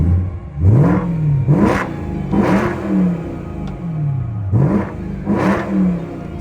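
Infiniti G35 with a V8 and modified exhaust revving repeatedly in a rhythmic series of loud, close blips, each rising and falling in pitch, with no talk.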